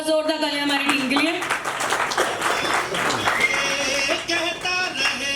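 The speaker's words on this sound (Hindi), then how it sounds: "एक बार जोरदार तालियां हमारी टीम के लिए।" Applause for the team at a corporate Diwali celebration at a resort, a crowd clapping steadily under loud music with singing voices.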